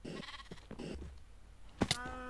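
Two sheep bleats from the Minecraft Tekkit Lite game sound out near the end, loud and close, after a stretch of muffled game noise and brief voices.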